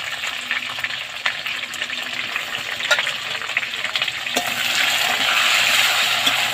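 Tomato, chili and ginger fry together in a pan with scattered clinks of stirring, the sizzle swelling louder and hissier toward the end, heard close with no talk.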